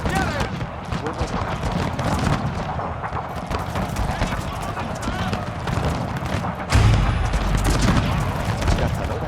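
Massed rifle volleys from troops in a Total War battle game set in the 1833 Carlist Wars, crackling in dense overlapping bursts with a heavier boom near the end, under a voice giving orders.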